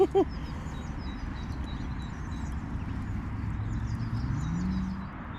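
Horse hooves clip-clop steadily along a road, heard at a moderate distance under continuous outdoor ambience while a dog is walked nearby.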